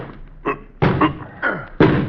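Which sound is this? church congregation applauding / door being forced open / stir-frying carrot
door being forced open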